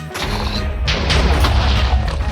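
Blocky TNT blast in the Minecraft video game, a loud, dense low rumble with crackling debris that carries on for the whole moment rather than dying away after one hit.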